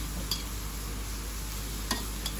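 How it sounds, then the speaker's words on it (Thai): Water mimosa stir-fried with oyster sauce in a pan gives a steady, close sizzle with a few brief stirring scrapes, and no voices. "ผัดแบบง่ายๆใส่น้ำมันหอยค่ะ"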